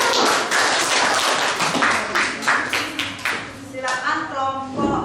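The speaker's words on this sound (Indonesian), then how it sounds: "Kasih tepuk tangan." Classroom applause after group presentations: a burst of hand clapping from students, fairly close and continuous across the clip, with overlapping taps that thin out toward the end and some voices mixed in.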